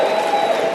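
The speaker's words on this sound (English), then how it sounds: "Give yourselves a round of applause." Audience applause at a motivational speaking event, a brief, steady wash of clapping from a crowd with a faint sustained tone running underneath.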